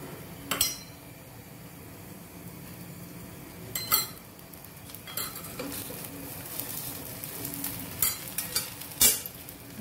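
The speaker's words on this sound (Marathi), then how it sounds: "खरपूस असं भाजू द्यायचं याला" Rava dosa with onion and tomato roasts in oil on a pan, a soft steady sizzle under several sharp metallic clinks and scrapes of a utensil against the pan, close by and without speech.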